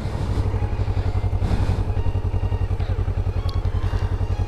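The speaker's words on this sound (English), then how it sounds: "You'll hear a little crank like a car," A Kawasaki Ninja motorcycle runs with a steady, rapid low-pitched engine pulse after electric start, loud and close, with light mechanical clatter over it and no talk.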